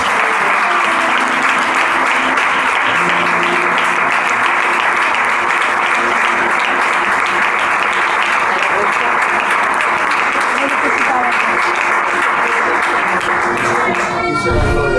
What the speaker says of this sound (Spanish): Den un aplauso para Dios, por favor